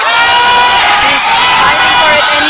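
Loud, continuous crowd cheering and shouting of encouragement at a powerlifting nationals deadlift attempt, a dense wall of voices and whoops sustained throughout at close range.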